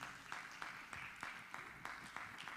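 Faint, evenly spaced clapping in a steady rhythm from an audience thanking panelists at an entrepreneurship workshop event, quiet and distant with no talk over it.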